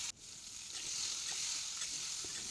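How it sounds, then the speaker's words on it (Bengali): Potatoes frying with cumin seeds in hot mustard oil, a steady bright sizzle that starts abruptly as they hit the pan and holds close and loud throughout, with faint stirring clicks and no talking. "জিরা দিয়ে আলুটা দিয়ে দিচ্ছি"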